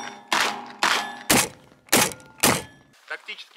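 Aimed fire from a Derya N-100 bullpup shotgun gives five sharp, loud blasts at uneven intervals about half a second apart, each cutting off quickly, followed by fainter knocks.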